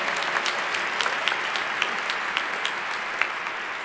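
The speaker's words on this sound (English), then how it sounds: "you give a round of applause for the incredible faculty up here who've done great work" A large audience at a graduate commencement ceremony applauds the faculty, steady dense clapping with a few sharper claps standing out, sustained evenly throughout.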